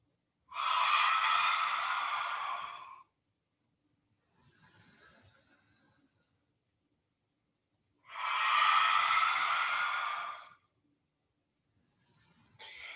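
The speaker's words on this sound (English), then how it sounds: "Exhale lion's breath as you round the back into cat." During a yoga class, two long, forceful lion's breath exhales rush out as loud, breathy hisses, each lasting a few seconds. A fainter breath comes between them, and another exhale begins at the end.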